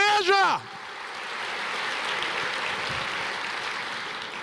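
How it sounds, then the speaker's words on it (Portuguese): Church congregation applauding: a brief spoken phrase gives way to a broad, even wash of clapping from many people, steady and moderately loud, sounding like rushing water. "Você pode aplaudir o Senhor? Aplauda o Senhor."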